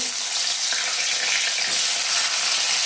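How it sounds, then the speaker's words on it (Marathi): Brinjals frying in oil in a pan right after bombil fish, a loud, steady, close sizzle with a dense hiss throughout and no voices. "आता यामध्ये टाकणार आहे मी हे सगळे वांगे"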